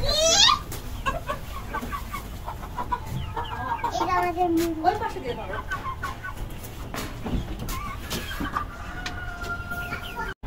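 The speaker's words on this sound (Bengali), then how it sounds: "মুরগিগুলো আমার দেখা কি ছটফটটা করতেছে, দেখো একটু মুরগিগুলো কিরকম ছটফট।" Chickens on a rooftop cluck and fuss restlessly while being fed. The short, scattered clucks and squawks sit over steady background noise, and voices are faintly audible now and then.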